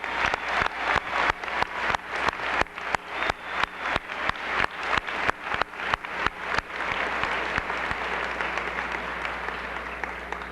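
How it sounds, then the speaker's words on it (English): An audience at a 1998 Norristown high school commencement breaks into applause. Brisk rhythmic clapping first pulses in waves, then thickens into a dense, steady wash of many hands that carries on for several seconds, with no talking over it. "How about a round of applause?"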